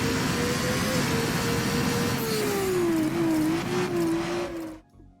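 A Mazda rotary engine revs in a high, buzzing, sustained tone that swells up and down before cutting off abruptly, loud and close.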